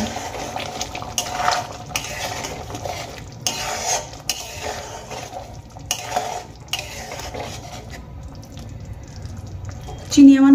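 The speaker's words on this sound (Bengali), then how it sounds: "এবার খুব ভালো করে চিনি আমি গ্রেভির সঙ্গে মিশিয়ে নেব।" Sugar being stirred into a Bengali-style egg masala curry gravy in a pot, with repeated scraping and stirring strokes over a low sizzle, steady and close, ending in a brief louder clatter.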